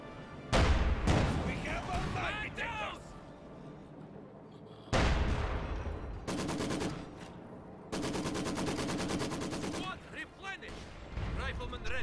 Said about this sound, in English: Another mine blown up right there by that squad.